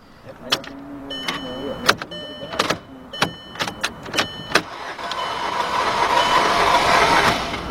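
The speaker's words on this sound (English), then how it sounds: "Let's crank the car up and see what we got." Sharp metallic clicks and clunks repeat irregularly as a Volkswagen-Audi group car due for rear timing chain replacement is cranked, then a rough engine roar rises and holds steady.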